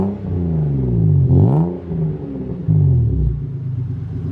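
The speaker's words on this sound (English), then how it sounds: "Alright, so I'll give you guys a couple revs so you can really hear this thing." BMW E30 with an M50 engine and full 3-inch exhaust revved at a standstill: two sharp throttle blips rising and falling over a deep, rumbling idle, loud and close with no talk.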